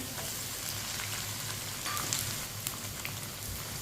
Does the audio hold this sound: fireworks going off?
no